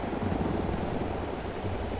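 A helicopter in DayZ drones close and loud, its rotor and engine forming a dense, unbroken roar with no voices over it.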